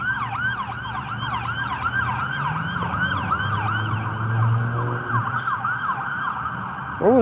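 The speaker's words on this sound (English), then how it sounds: "It's leaving the ambulance station over there." An ambulance siren wails in a steady, repeating up-and-down pattern as the vehicle pulls out of an ambulance station, loud and continuous under traffic rumble, with a passing vehicle's engine growing briefly near the end.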